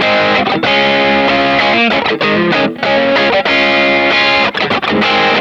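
Distorted electric guitar plays sustained chords through a Helix Native amp plugin with a subtle spring reverb tail, loud and continuous with brief gaps.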